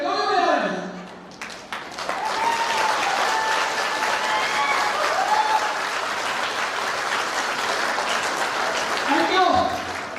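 An audience applauding during a speech, dense sustained clapping that swells after a short voice at the start and carries on steadily with some crowd noise, a voice briefly heard again near the end.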